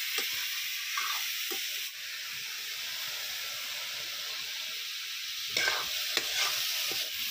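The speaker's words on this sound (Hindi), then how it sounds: "और अंजू डाल दी कढ़ाई में तेल" Oil sizzles and spits steadily in a kadhai on the stove, a continuous bright hiss with a few louder crackling bursts and stirring clatters near the end, heard alone without talk.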